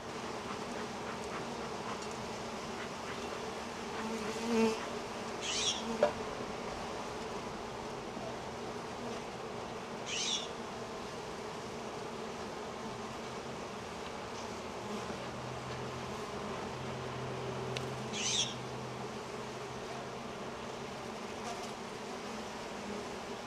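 Honeybees buzzing around an open backyard beehive during an inspection, a faint steady hum with a few louder passes of single bees flying close by, and no speech.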